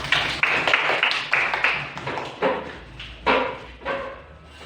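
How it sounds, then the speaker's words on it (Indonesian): Hand clapping in a classroom setting, a series of sharp, separate claps in uneven bursts, fairly close and moderately loud, with no talk over them. "Tepuk tangan."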